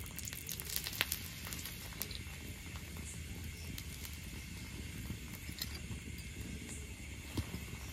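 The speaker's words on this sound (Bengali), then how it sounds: "এবার এপিট ওপিট করে রুটিটাকে ছেঁকে ভালো করে ভেজে নেব" Steady low sizzling of a roti frying in oil on a tawa, a continuous crackling hiss with scattered pops, fairly quiet and close.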